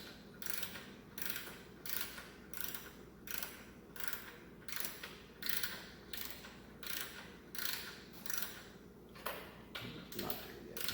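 A ratchet snugs bolts on a 2021 Indian Scout Bobber motorcycle seat, clicking in an even run of about fourteen quick bursts. Each burst is close and fairly quiet, and no one talks.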